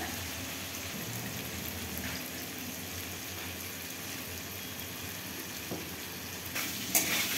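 Potatoes frying in a pan for a Bengali alu posto dish give a steady, soft crackling sizzle that holds at an even level, with a few faint clinks near the end.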